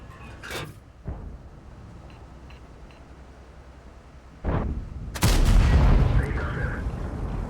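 Tank cannon fire in a World of Tanks–style game, Object 168, with a short sharp shot near the start, then a heavy boom about four seconds later followed by rumbling echo and engine noise.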